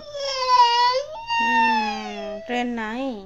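A small girl cries close by in a few drawn-out, wavering wails with short breaths between them, loud and unaccompanied by other sounds.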